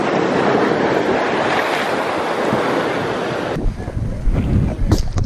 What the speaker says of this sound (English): the ocean's kinda crazy right now